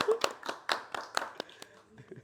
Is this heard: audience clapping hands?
yes